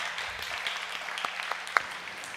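Church congregation at a young adults' service claps for two people who gave testimonies, a light, scattered applause with a few sharp nearby claps over a soft background.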